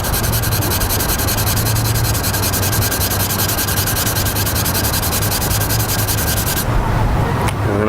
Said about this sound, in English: I'm going to go in and hit it again with the sandpaper